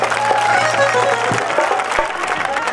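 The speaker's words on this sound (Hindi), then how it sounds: "ताली मार लिया तो खुल का मार दो एक बार सारे का" A crowd applauds a folk singer at a village jagran in Ghaseda, Rewari: dense, steady clapping that fills the whole stretch at fairly high level, with some voices mixed in.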